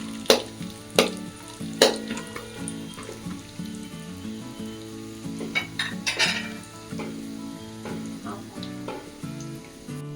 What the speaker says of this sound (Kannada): ಇದು ಕಡಲೆಕಾಯಿ ಬೀಜನು ರೋಸ್ಟ್ ಆಯ್ತು, ರೆಡ್ ಆಗಿದೆ ನೋಡಿ.